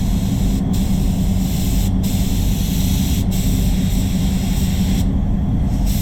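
A spray gun lays basecoat paint on a Mazda CX-9, giving a loud, close, continuous hiss with a few very brief breaks between passes.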